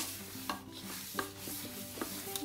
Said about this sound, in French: Voilà, je mélange bien sûr la semoule